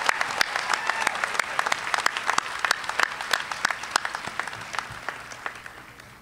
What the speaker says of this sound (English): Let's have one more round of applause for our associate degree students.